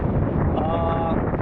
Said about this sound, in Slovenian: 15 vozlov ga piha, toliko noro, da je prav brez se mogel vleči.